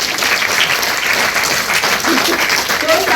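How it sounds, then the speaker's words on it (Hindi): Children at a school clap together in a dense, continuous burst of applause lasting a few seconds, loud and close, with faint voices mixed in. "ताली बजा दो एक बार।"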